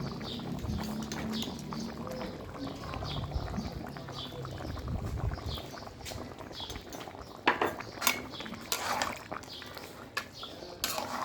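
Country chicken curry being stirred in a pot over a clay stove: a low simmering bubble, then clattering scrapes and knocks of the spoon against the pot, close and moderately quiet.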